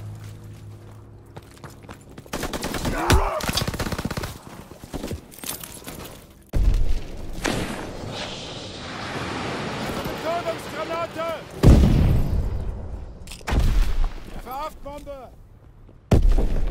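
Video game aerial strafing run on the Sainte Marie du Mont map during a domination match: bursts of heavy gunfire and booming impacts in irregular volleys, some loud and close, with talk heard over the action.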